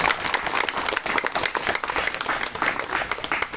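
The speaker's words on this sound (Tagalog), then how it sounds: "Kana inyong palakpak karon, hinay na nga palakpak para ni Lord." A church congregation claps softly and steadily at a ministry gathering, a gentle continuous patter of many hands close by, with a little talk underneath.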